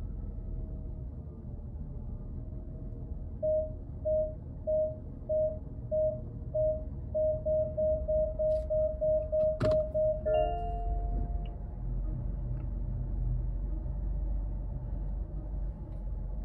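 A Mazda CX-90 PHEV proximity warning beeps as the car closes on the vehicle ahead, first spaced evenly, then quickening into rapid repeated tones before a final chime, over a low cabin rumble.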